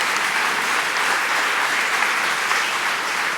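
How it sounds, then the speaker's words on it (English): An audience at a live debate on abortion between two doctors claps steadily for both debaters, a dense, even wash of applause that holds at full strength throughout without voices. "Yes, please feel free to clap for both of them."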